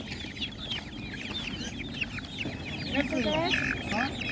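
Chickens cluck and chirp in a busy stall at an animal market, their many overlapping calls growing louder toward the end over a background of voices and crowd noise.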